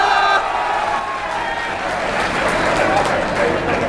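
Audience at a poetry performance responding with broad applause and crowd noise, a thick continuous roar of clapping and cheering that stays loud from start to finish.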